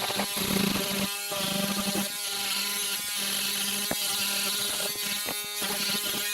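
A cabinet door sanded with a 150 grit sanding pad on a power tool, giving a continuous, loud, close whirring buzz with short dips and rough scraping bursts, and no talk.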